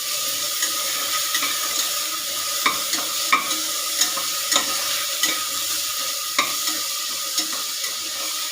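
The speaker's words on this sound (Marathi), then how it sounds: "हे बघा जिरे टाकते." Cumin seeds sizzle in a hot pan with a loud, constant crackle, and a utensil taps and scrapes at irregular intervals throughout.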